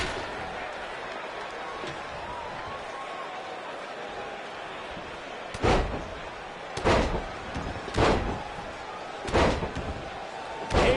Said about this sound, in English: He slams him down with authority.